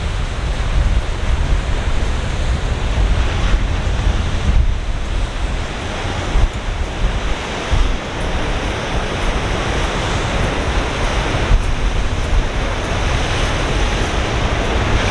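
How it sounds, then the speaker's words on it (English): Ocean waves splash against rocks along a Sydney Northern Beaches shoreline, a loud continuous roar of surf with repeated surges, mixed with wind buffeting the microphone and no talking. "watch the waves splash up all along the shoreline"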